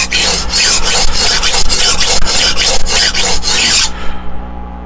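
A knife edge rasps steadily across the stone of a Hapstone T1 guided sharpening system, loud close strokes in a quick even rhythm of about ten passes before stopping.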